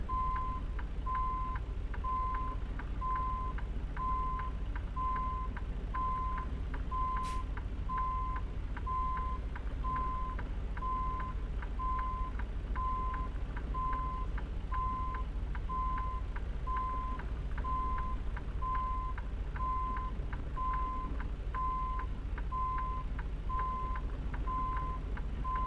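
A truck reverses in American Truck Simulator, a steady reversing beeper pulsing at a regular rhythm over a constant low engine drone, moderately loud with no voices.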